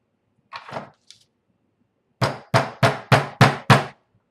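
A hammer drives a nail through leather to widen stitching holes for a tomahawk sheath, with two soft early taps, a pause, then six sharp, evenly spaced strikes close up.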